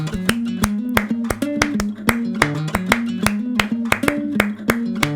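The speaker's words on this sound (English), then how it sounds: "flamenco percussive clapping that you hear time and time again in Spanish music" A flamenco-style clap sample loops in Ableton Live, sharp syncopated claps mixing offbeats and downbeats in a steady, repeating pattern over a low sustained tonal line.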